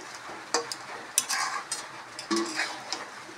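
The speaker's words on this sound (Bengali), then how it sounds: "মাছগুলি ভেজে উঠিয়েছিলাম সেগুলো এখন মিলিয়ে দিচ্ছি।" Fried small gura fish are stirred into a simmering ridge gourd and potato gravy in a pan. A spoon gives close, intermittent scrapes and clinks over a soft bubbling sizzle.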